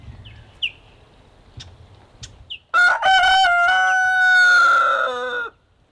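A farmyard rooster in a rough chook pen on a free-range homestead crows once, loud and close, a long harmonic call after a few faint clucks and background noise.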